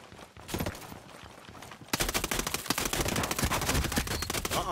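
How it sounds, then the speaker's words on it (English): Gunfire in the video game Ghost Recon Breakpoint: after a quieter opening, rapid bursts of shots crackle densely and continuously, loud and sustained like an automatic weapon firefight. "I hear gunfire."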